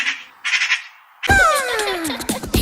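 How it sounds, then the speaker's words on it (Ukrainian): A magpie calls with a loud, harsh chattering squawk that rises to a sweep and then breaks into rapid raspy notes, coming after a short, fainter noisy sound, with no voices. "Сорока."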